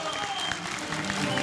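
Audience applause at an award ceremony, a brief steady burst of clapping from a crowd heard at moderate level, with some faint voices mixed in.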